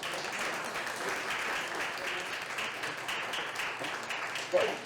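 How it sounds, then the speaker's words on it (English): Steady applause from a room of people for a panel discussion, moderate and even, continuing for several seconds with faint murmuring underneath. "I want to give our panelists one more round of applause for this."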